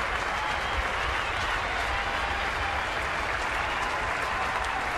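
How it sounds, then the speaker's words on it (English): A stadium crowd at a Giants–Brewers baseball game applauds with steady, dense, roaring clapping that continues unbroken for the whole stretch. "Ken Maka clapping in the Brewers dugout"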